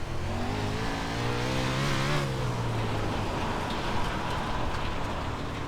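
USAC 360 sprint car engine in the iRacing video game, loud and close, revving up and down through a corner with rising and falling pitch over steady racing noise.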